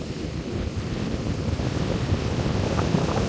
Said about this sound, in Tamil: அவ்வளவு காற்று